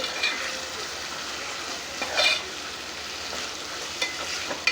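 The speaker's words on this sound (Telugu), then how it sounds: "ఇదిగోండి చిక్కుడుకాయలు వేసాను. కలుపుకోవాలి." Broad beans being stirred into onions frying in a pan for a tomato curry, with a steady soft sizzle and a few scraping stirs from the spoon, close and alone without talk.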